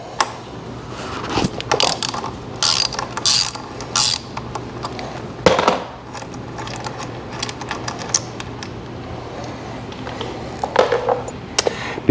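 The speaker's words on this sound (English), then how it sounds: "To remove the center bolt here, it is a 17 millimeters" Ratcheting wrench loosening the 17 mm center bolt on a BMW R1200RT motorcycle wheel, with repeated clicking and metallic clanks in irregular bursts close by, no talking.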